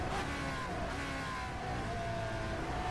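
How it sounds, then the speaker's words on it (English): A classic Formula 1 car with a Cosworth V8 engine in rFactor 2 drones steadily from the cockpit, a continuous harsh engine note with shifting pitch, present throughout at even volume. "I can tell this is the Cosworth V8, so they really need to tune the sounds"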